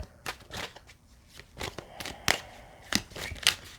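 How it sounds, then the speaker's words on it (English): Tarot-style cards being pulled from a deck and shuffled close by, a run of quick papery riffles and slaps with louder snaps toward the end. "pull the cards out"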